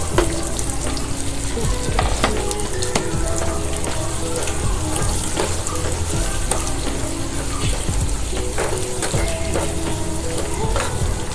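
Onions sizzle and crackle steadily in a pan of garlic and ginger already browned for a homemade mixed dal tadka, loud and continuous with occasional stirring scrapes and no talking.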